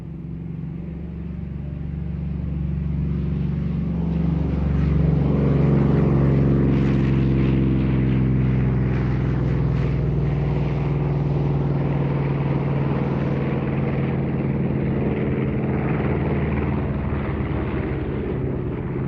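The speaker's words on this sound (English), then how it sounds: "as it departs we watch the Corsair begin its takeoff roll" A Corsair warplane's radial piston engine drones loudly and steadily as the aircraft rolls for takeoff at an air show, the propeller note building and then holding near and strong.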